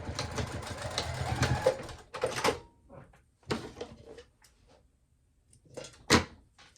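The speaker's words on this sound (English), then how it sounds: "we'll just go ahead and baste that closed, or baste the two ends together" A sewing machine bastes the two fabric ends of a wristlet clutch together in short whirring bursts separated by pauses, with handling clatter and quiet moments in between.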